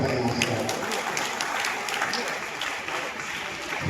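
Warm applause from an audience at a Telugu literary gathering honoring film lyricist Ananta Sriram, a continuous patter of many hands at moderate volume with some voices mixed in.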